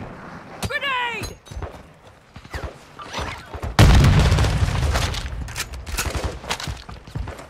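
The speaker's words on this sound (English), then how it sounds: "Grenade！" Grenade going off in Call of Duty MW2 DMZ: a sudden loud, close blast midway that rolls and decays for several seconds, with game noise and players talking before and after it.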